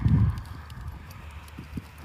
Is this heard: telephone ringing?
no